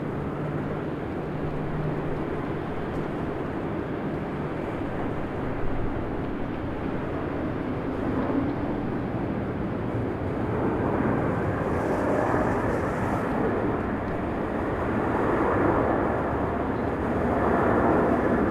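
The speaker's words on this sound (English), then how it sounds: "JetBlue's A220." A JetBlue Airbus A220 airliner at Raleigh-Durham airport gives a steady broad jet roar from a moderate distance, swelling slightly toward the end, with no talk.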